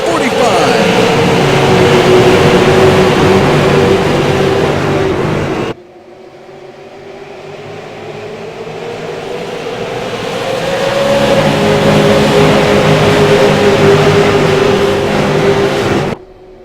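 Race cars at Lucas Oil Raceway roar loudly past after a restart on the green flag, engines rising in pitch, then dropping off abruptly before another wave of cars sweeps through and cuts out again.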